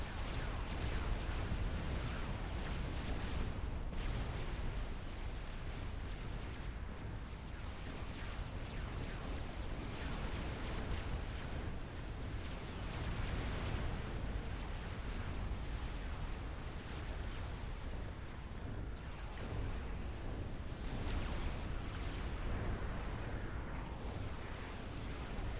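Artillery fire and explosions in a real-time strategy battle against AI opponents. A loud, unbroken wall of rumbling blasts and bursts holds steady throughout.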